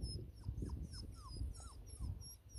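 A dog on a beach gives soft, high whimpers and short whines in repeated bursts against low wind rumble, fairly close but quiet.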